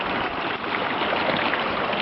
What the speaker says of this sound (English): I like to take my little dustpan that I've been using and just fill it with water